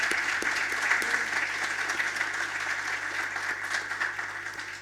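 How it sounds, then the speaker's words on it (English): Audience applause at the close of a panel discussion on AI in education, a dense, steady wash of many hands clapping that holds evenly throughout, fairly distant and without speech. "Let's give a big round of applause to our participants."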